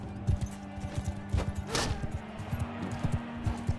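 A horse gallops in the Mount and Blade 2 video game, its hooves pounding in a quick, rhythmic clip-clop close by, with a brief whoosh and battle noise mixed in.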